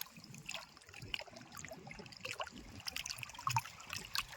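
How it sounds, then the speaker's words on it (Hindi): Water trickles and laps at a lake near Ajabgarh fort, a faint, steady gurgling flow with small irregular splashes close by and no talking. "बाकी पानी की आवाज़ आ रही है ना भाई"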